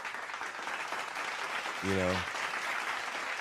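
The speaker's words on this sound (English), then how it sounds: "a round of applause" An audience at a live talk show claps in a steady wash of applause, with a voice speaking briefly over it.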